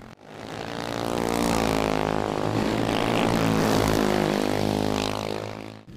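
Several 125cc kart engines racing at the Ayrton Senna da Silva kartódromo in Pato Branco, a steady loud droning whine with layered harmonics that swells and holds close for the whole stretch before dropping away at the end.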